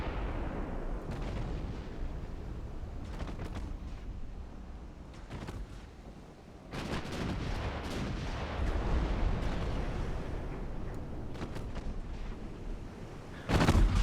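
Repeated heavy naval gun salvos from an Italian battleship in Ultimate Admiral Dreadnoughts, booming blasts at irregular intervals over a continuous low rumble, with a loud burst near the end.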